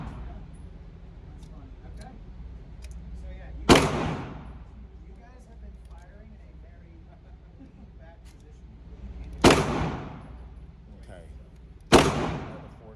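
Three sharp Glock 19 pistol shots crack at a shooting range, one alone and then two a few seconds apart, each loud with a short decaying echo against quiet background.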